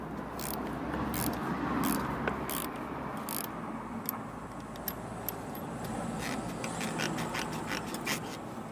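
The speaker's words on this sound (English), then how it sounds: "put the hex key in the top there just to hold the middle part still, and then the spanner over it" A spanner loosening a car suspension top mount nut while a hex key holds the centre, giving a series of sharp metallic ratcheting clicks and clanks in bursts over a low steady background, close by with no talking.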